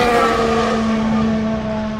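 Historic Formula 1 race car at Silverstone during a British Grand Prix weekend, a loud, high-pitched engine note holding steady as the car passes close by, fading slightly at the end.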